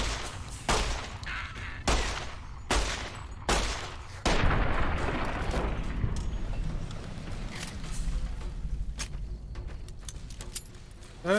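Gunshots in the Fallout: New Vegas video game, several heavy single shots spaced a second or so apart, then a louder burst that trails into a rumbling echoing tail, with no talking.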